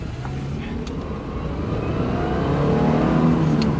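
An old Subaru with squealing calipers and rotors pulls away on a quick road test, its engine note climbing steadily and growing louder as it accelerates, close and continuous, with no talking.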